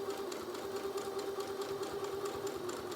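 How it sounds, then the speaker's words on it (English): A sewing machine stitching a fabric face mask runs steadily, a close, continuous mechanical whir with a fast rhythmic needle chatter throughout. "You're just going to sew a little bit on the sides to attach it."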